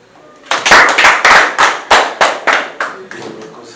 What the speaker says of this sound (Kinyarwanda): Ni amashyi.